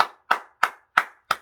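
A church congregation claps in unison during a dawn worship service, five sharp, evenly spaced claps in a steady rhythm, close and distinct with silence between each.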